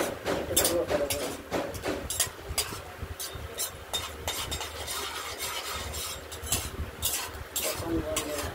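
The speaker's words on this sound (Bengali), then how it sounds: "বাদামটা প্রায় ভাজা হয়ে এসেছে।" Peanuts fry in a pan as a utensil stirs them, giving a busy run of metallic scrapes and clinks over a soft, steady sizzle from start to end.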